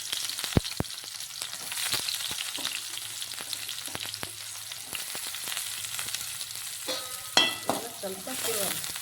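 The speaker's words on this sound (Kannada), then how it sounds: "ಇವಾಗ ಇದಕ್ಕೆ ಕಟ್ ಮಾಡಿರೋಂಥ ಈರುಳ್ಳಿ ಸೇರ್ಕೊತೀನಿ." Chopped onions frying in a pan after cumin seeds, a steady close sizzle with a few sharp utensil clicks early on and a burst of louder crackling spatter near the end.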